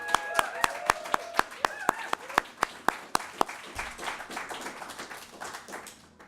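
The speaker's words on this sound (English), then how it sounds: "I like to start each ceremony with a big round of applause" Applause at a Nasdaq opening bell ceremony in New York starts with a few sharp, evenly spaced claps, then swells into a dense crowd clapping that fills the room and carries on steadily.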